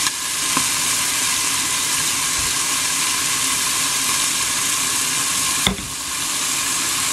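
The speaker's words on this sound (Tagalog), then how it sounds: "hayaan natin na mag-simmer yung dahon ng sampalok at saka yung pork at saka yung chicken" Tamarind leaves, pork and chicken bubble in a covered pot, giving a loud, steady sizzling hiss. A couple of sharp clatters break in, one near the start and a louder one toward the end.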